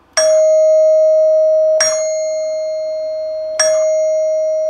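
A NuTone two-note clock door chime sounds its rear-door single note three times, each a bright struck tone ringing out and sustaining between strikes, close and alone.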